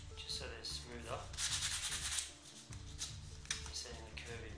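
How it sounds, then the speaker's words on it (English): Soft, rhythmic rasping of sandpaper rubbing back and forth, fairly close and quiet, in short repeated strokes. "Make sure you sand the edges just so they're smooth up."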